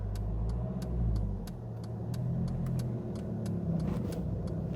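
A car engine in a manual driving lesson hums steadily and close as the clutch reaches the bite and the car pulls away, with low rumble swelling slightly, under faint clicks and no talk.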